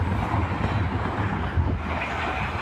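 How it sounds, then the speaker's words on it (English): A CrossCountry Voyager express train rushes through Thirsk on the East Coast Main Line as a loud, steady roar with wind buffeting, filling the whole short span without a break. "next express is going to be a cross-country Voyager."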